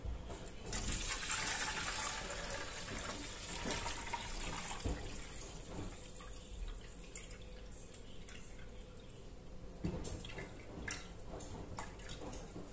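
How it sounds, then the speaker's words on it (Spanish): Water fills the tank of a De'Longhi Rivelia coffee machine for descaling, a steady splashing and trickling stream running close and continuously for over twelve seconds, with no talk. "Y ahora llenamos de agua hasta la marca que pone B."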